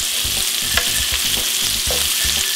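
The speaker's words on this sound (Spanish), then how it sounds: "Sigo volteando, voy volteando la cebolla y la piña, que se vaya asando la piña" Onion and pineapple frying with bacon in a hot pan and being turned repeatedly, a loud bright sizzle under a regular series of short scraping and tossing sounds, close up and without speech.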